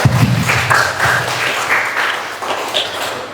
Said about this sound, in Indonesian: Kita beri aplaus untuk kita semuanya.